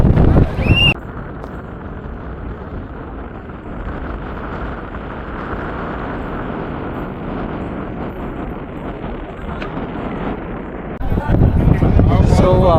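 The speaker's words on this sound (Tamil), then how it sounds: "அந்தளவுக்கு வந்து காற்று ஹெவியாக அடிச்சிட்ருக்கு" Strong coastal wind blasts across the Kanyakumari glass bridge, roaring as a steady, loud rumble against the microphone, with voices talking briefly at the start and end.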